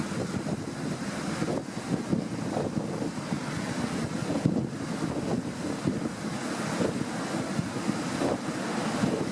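Heavy surf rolling and crashing continuously, with strong wind buffeting the microphone throughout; a rough, roaring, stormy seaside.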